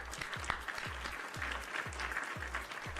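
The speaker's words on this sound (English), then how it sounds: "Round of applause for that." A small round of applause from a livestream celebrating a win, steady light clapping with evenly spaced low thumps, quiet and somewhat distant, with no talking over it.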